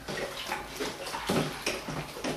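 Cold water is poured close up into a container for homemade nettle wine, splashing and gurgling in several uneven pulses, with no speech.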